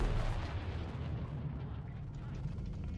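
Distant, muffled rumbling explosions from JDAM ER glide bombs in an air-combat video game, a low continuous boom and roll of blasts with faint pops, fairly quiet throughout.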